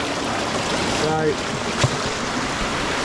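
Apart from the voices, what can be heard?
waterfall rushing water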